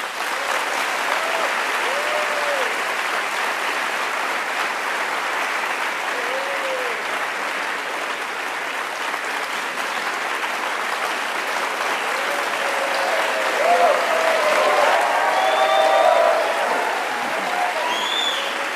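An audience at The New School greets Noam Chomsky with sustained applause, dense steady clapping from a large crowd that lasts the whole stretch and swells slightly near the end.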